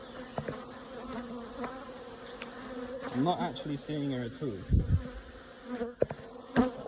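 Honeybees in an attic hive buzz in a steady, close hum with shifting whines as individual bees fly past, while someone speaks quietly over them.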